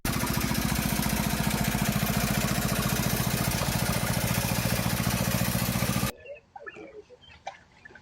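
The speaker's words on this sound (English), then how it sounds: "He gave his ride-on lawnmower an upgrade." Ride-on lawnmower engine running loud and close with a rough, steady chugging drone that cuts off abruptly near the end, leaving faint background noise.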